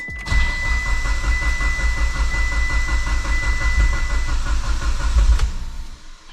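A Mitsubishi Evo engine cranks and catches roughly, then runs with a steady, loud low rumble and a thin high whine for several seconds before cutting off near the end, heard up close with no talking.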